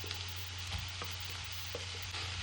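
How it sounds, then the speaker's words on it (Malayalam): Onion, ripe tomato and cashew nuts sautéing in a pan for kadala masala, a steady soft sizzle with a few light stirring scrapes, fairly quiet and close, no voices. "ഇതോടെ ചേർത്ത് നന്നായിട്ട് തന്നെ ഒന്ന് വഴറ്റിയെടുക്കാം"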